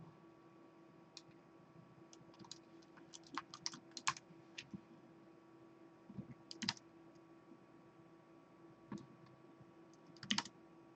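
Someone typing a search on a computer keyboard, sparse clusters of light key clicks in short bursts, quiet and close, with no talk.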